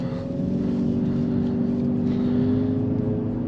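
A 2020 Ford Fusion Titanium Hybrid engine given a little throttle, a steady low hum with a faint tonal whine holding even and moderately loud from inside the cabin, with no talking.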